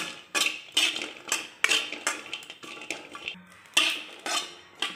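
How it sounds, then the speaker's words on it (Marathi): Dry coconut is stirred while roasting in a pan, a utensil scraping and clinking against the metal in a quick, uneven rhythm of close, sharp strokes. "असं सतत हलवायचं म्हणजे सगळीकडे भाजलं जातं खोबरं"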